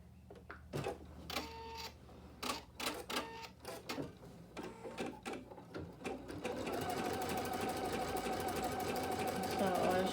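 An embroidery sewing machine bastes along a fabric edge for an April bunny orange peel design, first in short rhythmic stitch bursts under talk, then running in a steady fast continuous whir.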